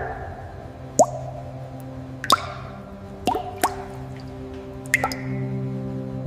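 Liquid latex drips from a freshly tapped rubber tree being harvested for natural rubber, a series of separate wet drips and plops about every second, close and fairly clear over a steady low hum.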